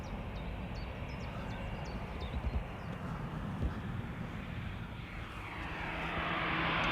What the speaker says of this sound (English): Is Stephen or Sally doing a flyby?